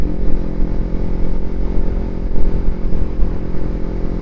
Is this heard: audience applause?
no